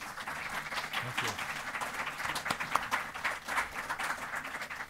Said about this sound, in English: ask for a round of applause to welcome our guest speakers.